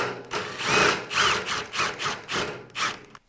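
Milwaukee power drill tapping and driving a quarter-inch fastener, loud and close, its motor whirring in several surging bursts with brief pauses between, the pitch rising and falling as the bit bites into the workpiece.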